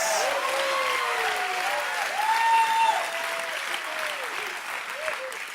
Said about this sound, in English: I think Jesus deserves a louder shout than that